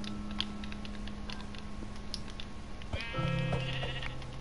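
A white sheep in the video game Minecraft bleats clearly in a single drawn-out call near the end, preceded by faint ticking and clicking game sounds, with no talking.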